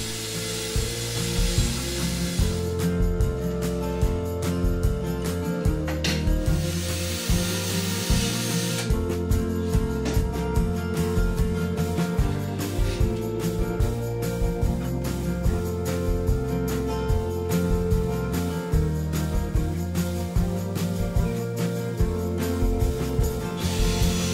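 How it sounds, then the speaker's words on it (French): A power drill bores a series of holes in wood while building an insect hotel, the drilling and grinding continuous and close, with repeated bursts as each hole is made and no talking. "avec la perceuse on perce les différents trous"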